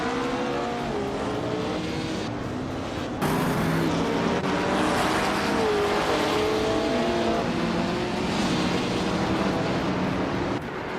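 Race cars in a racing game speed past with high, whining engines that rise and fall in pitch as they shift and pass, loud and continuous throughout, growing louder after a few seconds, with no talking.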